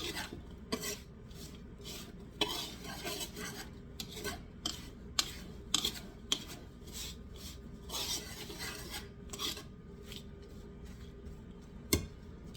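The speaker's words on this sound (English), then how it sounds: "You're going to need a fork to mix this." Apple pecan muffin batter worked with a fork in a bowl, a steady scraping, rubbing rasp with intermittent sharper clinks of metal against the bowl, close and continuous without talk.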